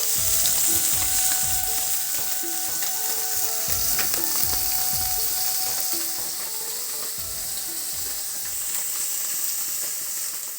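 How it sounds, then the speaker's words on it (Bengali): Fish sizzling steadily as it fries in a pan, a constant bright hiss with scattered pops and occasional scrapes of stirring, close and fairly loud throughout, with no talking. "দেখো মাছটাকে আমি ভেজে নিচ্ছি ভালো করে"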